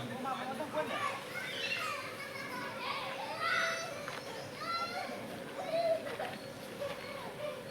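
Children shout and play in a shallow river while people swim, lively overlapping kids' voices with occasional splashes heard from a short distance over steady outdoor background noise.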